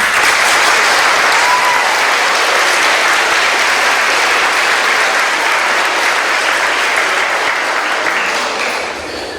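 An audience claps steadily and loudly for a young competitor at a poetry finals, a dense, even wash of applause that holds for several seconds before tapering off at the end.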